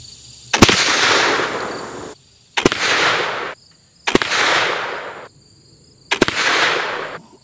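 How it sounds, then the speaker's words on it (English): A flintlock rifle fires four loud sharp cracks spaced about one and a half seconds apart at a sight-in session, each close report followed by a long roaring wash that fades before the next. "I'm going to fire another three-shot group"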